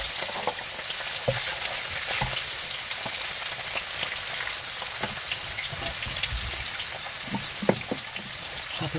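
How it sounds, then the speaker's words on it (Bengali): Sea fish fry in a pan with a steady crackling sizzle and light spattering pops, punctuated by occasional utensil clicks, fairly close but not loud. "একে একে মাছগুলো দিয়ে দিব।"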